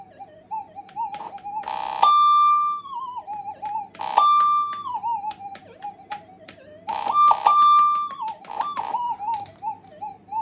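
A faulty SD2100 metal detector channel emits electronic pulsing tones in bursts, with steady beeping at a fixed pitch broken by warbling, stuttering signal changes over a low hum.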